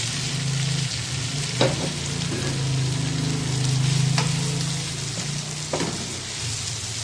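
Bitter gourd and onions fry in a pan with a steady, close sizzle that runs throughout, broken by a few sharp clicks of stirring.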